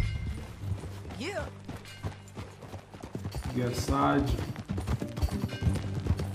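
Horse hooves clip-clopping in Red Dead Redemption 2, a steady rhythmic trot under game music and spoken dialogue, with a whinny-like sweep early on.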